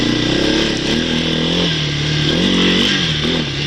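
A 1986 Yamaha DX225 shaft-drive ATV engine revs loudly and steadily, its pitch rising and falling as the throttle sticks briefly before settling, heard close up with no talking.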